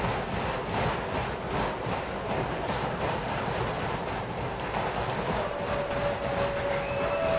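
A commuter train rumbles past near a soccer match, a steady, broad roar with faint rail clatter and a thin squeal rising toward the end.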